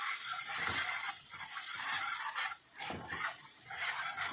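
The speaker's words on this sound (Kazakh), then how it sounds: "Осылай қуырылады." Chopped tomato fries in a pan with a steady close sizzle, broken by scraping and clinking as a utensil stirs the food against the pan.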